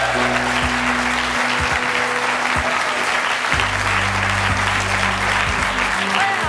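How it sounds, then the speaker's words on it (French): Studio audience applauding on a French television talk-show set, a steady dense wash of clapping held at an even, fairly loud level throughout with no voices over it. "je vous demande d'applaudir"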